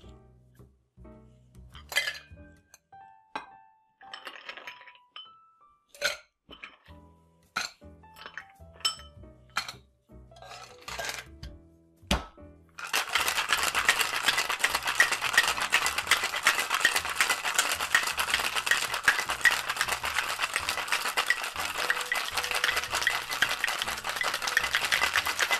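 Ice cubes clink one by one into a metal shaker holding heavy cream for a banana dessert cocktail, then a long, vigorous, rhythmic shake rattles the ice loudly and continuously.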